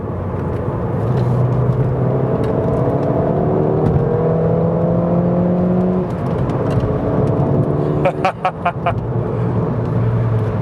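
A rebuilt Ford Fiesta ST is driven hard from inside the cabin. Its engine note climbs repeatedly through the gears as it accelerates, with a loud steady whir and a few sharp bumps near the end.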